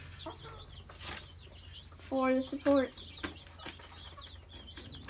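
Backyard chickens, including broody hens, cluck in a short burst of a few close calls midway, under and between a person's talking.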